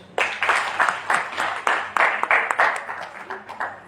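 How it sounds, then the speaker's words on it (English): Audience applause for a speaker at a college event, a burst of scattered claps that swells and continues steadily for several seconds, fairly close and moderately loud. "I think sir deserves an applause."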